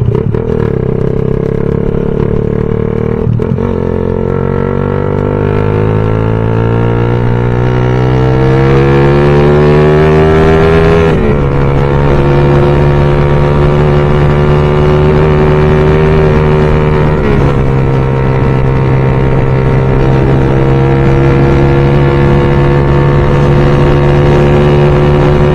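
A loud bored-up 166cc Suzuki Raider motorcycle engine idles and revs close by, its pitch climbing steadily then holding at a higher, rougher drone for the rest.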